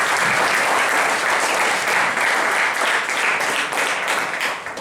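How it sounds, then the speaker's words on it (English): An audience at an engineering college workshop applauds to welcome a speaker, a thick, sustained wash of clapping that stays loud and even from start to finish. "So again, I am requesting you to give this a big welcome in terms of clapping."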